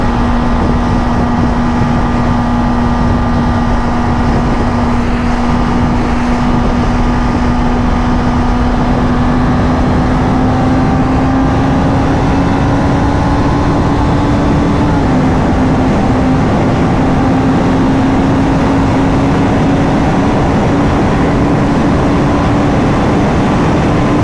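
Enduro motorcycle engine held steady at roughly 7000 RPM while cruising in fourth gear, a loud continuous drone with a strong sustained tone that rises slightly partway through, no talking.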